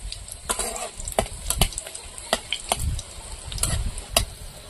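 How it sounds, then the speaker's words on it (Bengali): Dried red chillies fry in hot oil in a kadai over a wood-fired clay stove, giving a steady sizzle broken by irregular scraping stirs and soft knocks, close and fairly loud with no talking. "লঙ্কাটা লাল করে ভেজে নিয়েছি।"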